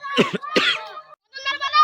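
A person with a cold coughs twice, close and loud, out in a field near a temple, followed by voiced sounds like speech.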